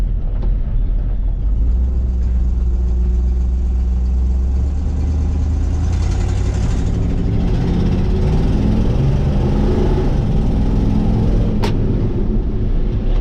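A 1955 Ford F100 pickup with a swapped-in 302 V8 and automatic transmission runs after sitting all winter, its low engine rumble steady and close throughout, with no talk.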